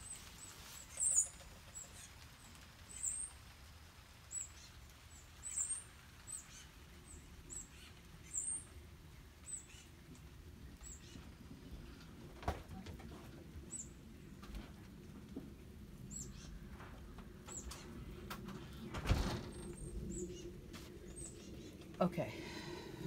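Baby birds chirp outside in short high, faint bursts spaced every second or two, far-off and repeating, while a nearby voice speaks quietly over a low room hum.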